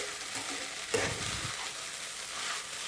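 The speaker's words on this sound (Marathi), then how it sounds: "हे पहा छान अशी परतवून घ्यायचे" Sabudana khichdi is stir-fried in a pan, with a steady close sizzle and a few scraping spoon strokes, one slightly louder stir near the start.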